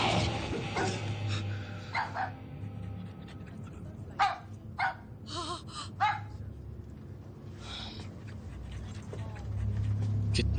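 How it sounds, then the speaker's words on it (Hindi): A dog barks and pants aboard a passenger train, several sharp barks and breathy gasps in the middle of the stretch over steady train rumble, with people talking around it. "कितना बदसूरत कुत्ता है।"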